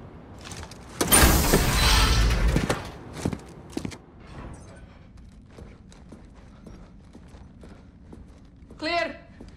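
A heavy door in the shooter game Call of Duty: Modern Warfare is forced open with a loud grinding slide lasting about two seconds, followed by scattered knocks and footsteps, with a brief voice near the end.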